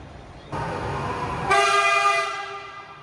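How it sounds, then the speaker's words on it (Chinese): A high-speed train pulls into a station, its rumble swelling in and then a long, loud horn blast with bright harmonic tones before fading slightly. "高铁来了。"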